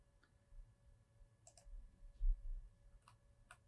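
A computer mouse clicks faintly in a quiet room while a topography file is imported in Revit, with a handful of sharp, isolated clicks spaced across a few seconds.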